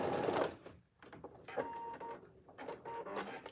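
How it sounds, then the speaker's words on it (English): A home sewing machine stitches a T-shirt seam in bursts, its whirring needle running, pausing briefly, then running again in short, close, moderately loud stretches. "the machine wants to eat it. So I'm gonna start midway through and go all the way down to the end"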